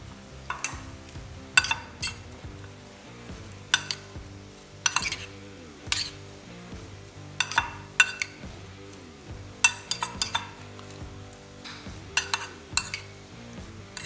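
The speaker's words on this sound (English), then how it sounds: "And then just give it a good mixing." Repeated clinks and scrapes of a utensil mixing coleslaw with dressing in a bowl, in short irregular bursts over steady background music.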